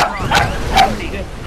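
Two quick barks from a dog nearby, loud and sharp, with a person's voice mixed in around them.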